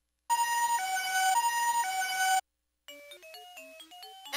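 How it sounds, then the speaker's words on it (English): An electronic toy plays an ambulance siren, a loud synthetic two-tone wail alternating high and low, then after a short gap a quick melodic run of electronic beeps. "Ambulance."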